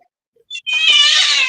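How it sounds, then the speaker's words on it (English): A cat gives a short chirp followed by a loud, drawn-out meow, close to the microphone. "That's a cat."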